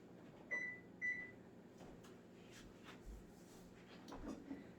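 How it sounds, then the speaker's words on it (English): An oven being started in a home kitchen: two short electronic beeps from the control panel, then quiet rustling and light handling noises at low level. "I'm going to start my oven."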